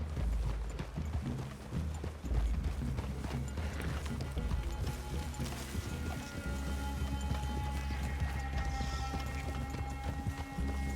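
Horse hooves clop in a steady galloping rhythm throughout Red Dead Redemption 2, close and busy, with a faint low rumble and occasional light ambient sounds layered beneath.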